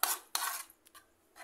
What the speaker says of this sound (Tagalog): At halu-haluin natin ito hanggang sa